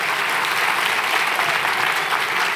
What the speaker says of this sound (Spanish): Vamos a dar un aplauso al Señor así sentados.